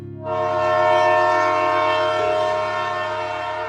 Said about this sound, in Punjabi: ਜਦੋਂ ਕਦੇ ਰੇਲ ਉੱਥੋਂ ਦੀ ਲੰਮੀ ਸੀਟੀ ਮਾਰ ਕੇ ਲੰਘਦੀ